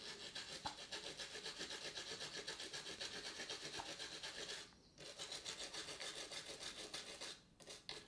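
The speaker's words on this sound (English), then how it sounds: "So let's put some more isopropyl up here as well. Really just douse the whole area in it. And again, scrub that." Nintendo Switch circuit board scrubbed with a brush soaked in isopropyl alcohol, a close, steady rasping scrub in quick strokes with two brief pauses, no talking.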